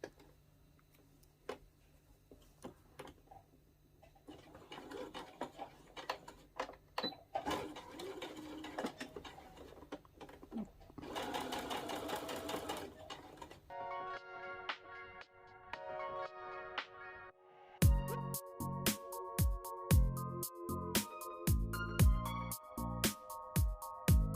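A sewing machine stitching a sleeve seam into a top, heard close with soft handling taps and bursts of mechanical whirring, then music rises over it toward the end, with no voices.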